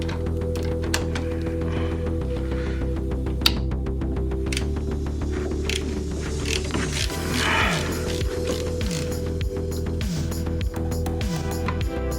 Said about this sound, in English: These axles are bolted to the gearbox by a flange, so they have to be unbolted.